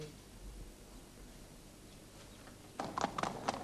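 Horse hooves clip-clop in a short burst of close, distinct steps near the end, after a quiet stretch of low background rumble.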